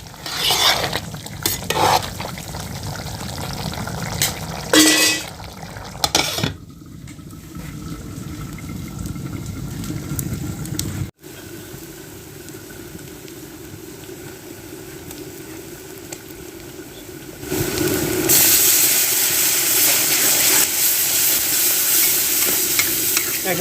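Spices and masala for a fish curry are sautéed in a pan over a clay stove, producing a steady, close sizzle with intermittent stirring scrapes early on, followed by a long continuous hiss that grows louder near the end.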